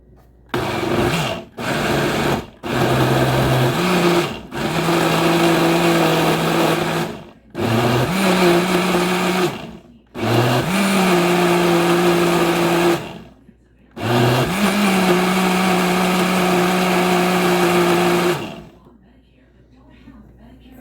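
A loud blender whirs in repeated bursts separated by short pauses, its motor pitch dipping and rising as it chops roasted tomatillo and Roma tomato salsa, then stops into near silence.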